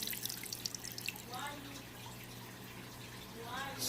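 Water surface in a nano aquarium churned by a small power jet filter, faint dripping and splashing with soft gurgles, quiet and close.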